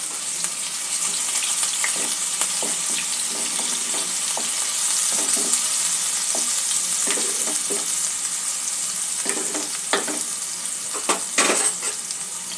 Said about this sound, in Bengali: পেঁয়াজ, আদা, রসুন মিনিট খানেক ভেজে নেওয়ার পরে